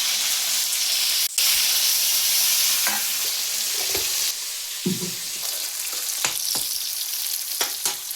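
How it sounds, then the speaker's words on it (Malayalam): Vegetables sautéing in a pan with a steady broadband sizzle and hiss, broken by scattered stirring scrapes and clinks from a utensil, fairly close and continuous throughout. "ഇതെല്ലാം കൂടെ വാട്ടിയിടാം"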